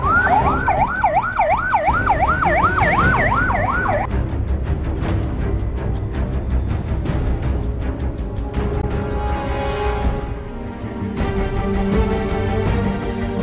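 An ambulance siren sounds during an emergency drill at the propylene jetty of the Pertamina Balongan oil and gas terminal, a loud rapid wail for a few seconds, then vehicle and crowd noise with sharp clatters.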